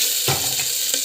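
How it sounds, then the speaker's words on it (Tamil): Garlic sautéing in a pan for a simple home-cooked dish gives a steady broadband sizzle, with a few soft stirring knocks partway through, all close and even in loudness. "பூண்டு போட்டுக்கிட்டு நல்லா வந்து"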